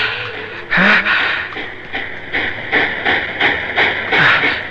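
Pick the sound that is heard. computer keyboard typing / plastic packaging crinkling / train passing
train passing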